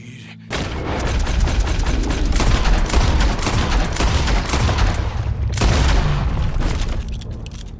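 Gunshots in Red Dead Redemption 2 form a loud, sustained barrage of rapid blasts and booms that fills nearly the whole stretch and pauses briefly once.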